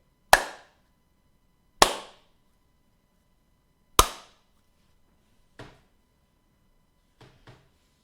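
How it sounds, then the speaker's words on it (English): Sharp hand claps for a camera audio sync test, three loud crisp claps spaced about two seconds apart, then three softer ones, the last two close together, each ringing briefly in a quiet room. "I just clapped"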